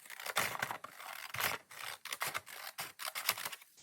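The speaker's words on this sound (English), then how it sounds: "So I have this piece of packaging here, and I need to cut down a strip." Scissors snip repeatedly through a strip of paper packaging, close and crisp, in a quick irregular series of cuts with short pauses between them.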